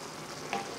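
Ground beef sizzling in bulgogi sauce in a pan, a steady, soft hiss of frying liquid with one faint clink partway through, heard alone.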